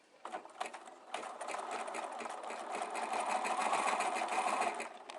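A sewing machine stitching crinkle silk chiffon, its motor starting with a few short bursts and then running in a steady, fairly quiet mechanical hum, close up and alone.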